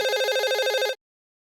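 A landline telephone rings with a bright warbling electronic trill in rapid pulses, loud and close, stopping abruptly after about a second and leaving silence.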